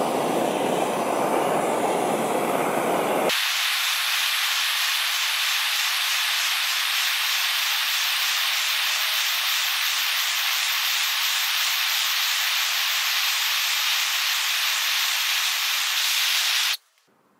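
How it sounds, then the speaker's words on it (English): An ordinary propane torch roars in a steady, loud broadband hiss for about thirteen seconds as it heats a piece of aluminum, cutting off abruptly at the end after a short stretch of other noise. "This is an ordinary propane torch, and I'll use it to heat the metal until the ink burns off."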